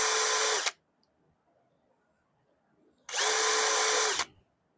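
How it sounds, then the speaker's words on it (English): A power drill bores holes in a mailbox face plate, two loud, close bursts of high whining spin separated by a few seconds of near silence. "I may go with like a 1/4 inch bit"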